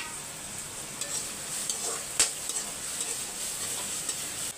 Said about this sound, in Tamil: வெங்காயம் பாதி வதங்கினா போதும்.